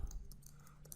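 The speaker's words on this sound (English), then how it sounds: "I'm just simply typing here" Light clicking of typing on a computer keyboard, a few soft scattered keystrokes close by in a quiet room.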